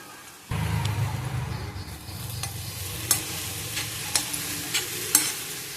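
Momo filling frying in a pan, a steady close sizzle that starts abruptly, with periodic sharp scrapes and clinks of a spoon stirring against the pan, no talk.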